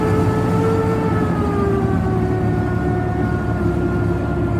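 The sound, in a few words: FV432 armoured personnel carrier engine revving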